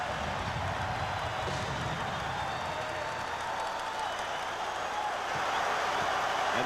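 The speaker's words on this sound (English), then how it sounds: "And the crowd starting to razz him." An arena crowd at a 1995 NBA playoff game between the Bulls and the Magic jeers a player at the free throw line in a tied game, a dense sustained roar of voices filling the whole stretch.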